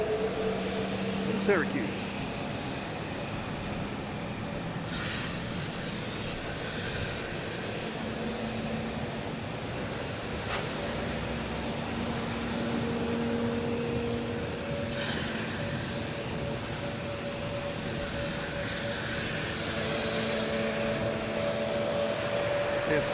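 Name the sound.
JetBlue Embraer E190 jet aircraft departing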